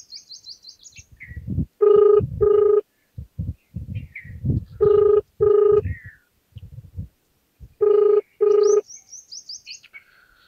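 An outgoing phone call rings back in pairs of electronic tones repeating about every three seconds, with faint chirpy melody fragments and clicks between them, heard close and clear.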